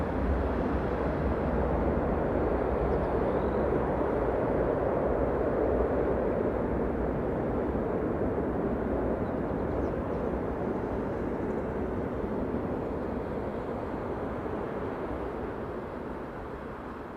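A landing airliner roars as its thrust reverser blocker doors push air out, a dense steady broadband rush that holds loud throughout and eases slightly near the end.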